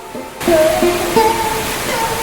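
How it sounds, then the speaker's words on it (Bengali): Heavy rain pours at a centuries-old Krishna temple, a dense, loud, steady roar that bursts in suddenly and holds, with faint tonal sounds running through it. "নেমে এলো বৃষ্টি"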